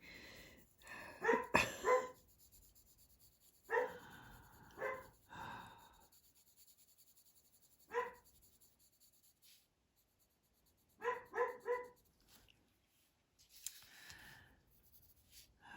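A dog barks in short bursts of two or three, scattered across the stretch with quiet gaps, fairly distant and soft, alongside faint scratching of colored pencil on paper.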